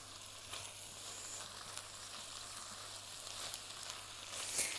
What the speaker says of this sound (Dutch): Champignons erbij. En ook deze laat ik eventjes goed aanbakken.